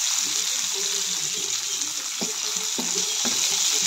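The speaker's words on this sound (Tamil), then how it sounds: "வெங்காயமும் பூண்டு இஞ்சிலாம் வறுபடட்டும்." Onion, garlic, ginger and cumin fry in a pan with a steady hiss of oil. A few soft scrapes of stirring come through near the end, with no clear talk.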